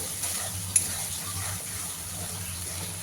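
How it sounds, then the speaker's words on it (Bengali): Spice paste being fried and stirred in a pan for pea ghugni, a low steady sizzle with faint scraping and a single clink, no talking. "দেখুন মশলা কত সুন্দরভাবে প্রায় কষানো হয়ে গেছে"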